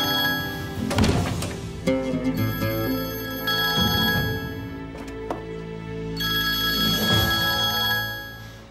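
A telephone rings in repeated bursts, its bright electronic trill sounding three times with short pauses between, fairly close and clear against a quiet room.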